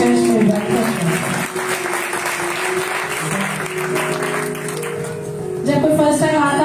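Church congregation applauding to welcome a first-time visitor, a dense sustained wash of clapping over a faint musical background, steady throughout with a slight swell near the end.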